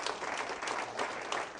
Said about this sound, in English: Why don't you applaud for all the folks watching